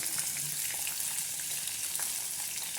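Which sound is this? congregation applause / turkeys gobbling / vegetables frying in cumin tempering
vegetables frying in cumin tempering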